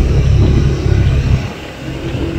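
A Honda PCX scooter engine carries a steady low rumble as it rides out onto a main road, loud and close, with wind noise and a slight dip midway before the drone picks back up.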